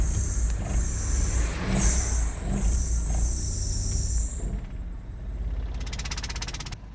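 A 2005 Nissan Quest with melting ignition coils accelerates in drive, its engine a steady, fairly loud rumble that builds and settles over several seconds, with a high whine running through it.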